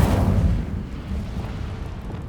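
Incendio fire spell in Hogwarts Legacy, heard as a loud, rumbling whoosh of flame that bursts at once and then roils and crackles steadily for a couple of seconds, with no talk over it.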